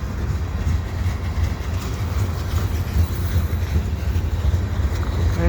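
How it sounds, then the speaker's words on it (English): A CP freight train creeps slowly in reverse, giving a steady, dense low rumble with faint rolling rail noise throughout, no voices. "the CP train pushing itself back. Slowly but surely moving itself back"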